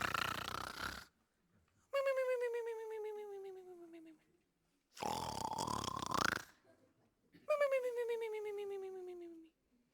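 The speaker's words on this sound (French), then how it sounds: "L'horloger s'assoupit et commence à ronfler doucement." A voice acts out a clockmaker character dozing off in a staged musical tale and snores in slow, drawn-out cycles. Each voiced, descending inhale is followed by a breathy rasp, about two full snores, moderately close.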